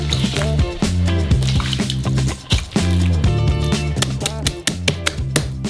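Hands knead a large batch of flour dough with added oil, giving loud, close, wet squishing and sloshing sounds in irregular pulses, with no talking.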